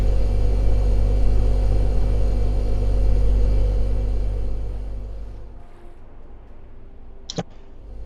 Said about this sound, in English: we need to turn on the air compressor